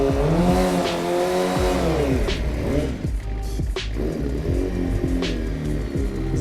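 A motorcycle doing a burnout on a slippery surface, its engine revving hard in rising and falling surges while the rear tire squeals and skids continuously, loud and close throughout.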